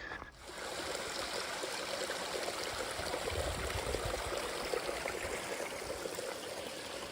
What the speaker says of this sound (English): This is Deer Spring.